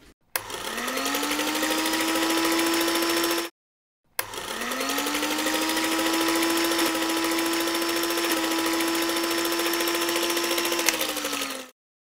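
Pancake batter being mixed with milk produces a steady mechanical whir in two continuous bursts of about three and seven seconds, separated by a short silence. No voices are heard.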